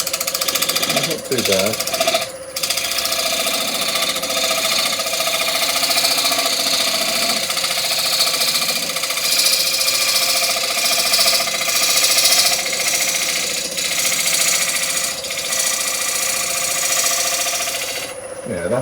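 A gouge scraping a spinning wood workpiece on a lathe while turning parts for a three-legged stool, a steady loud whirring scrape running throughout with a brief spoken remark near the start.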